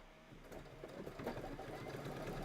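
Domestic sewing machine stitching down a layer of wash-away stabilizer in a quilting project, a steady whirring hum of rapid stitches running continuously and close.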